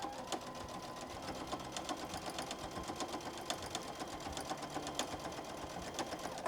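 A sewing machine stitches a quarter-inch seam on a fabric project bag, close and fairly quiet. Its rapid, even needle ticking pauses briefly now and then with no voice over it.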